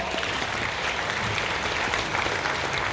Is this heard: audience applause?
yes